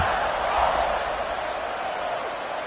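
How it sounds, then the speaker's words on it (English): A stadium crowd at a college football game between UCF and Alabama buzzes steadily before a kickoff, a dense, continuous roar of many voices held at an even level throughout. "this crowd is buzzing after that last score"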